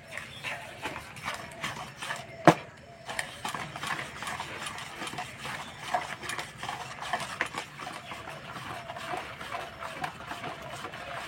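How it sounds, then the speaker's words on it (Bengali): A spatula working through warm jaggery in a bowl, giving repeated scraping, clicking strokes in an irregular rhythm, close and fairly quiet, with one sharp knock partway through. "গুড়টা হালকা গরম আছে, সেই জন্য খুন্তি করে মেখে নিচ্ছে"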